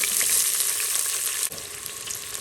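Chopped onions sizzling in hot oil inside an Instant Pot, a loud continuous frying crackle with a brief dip partway through and no talking.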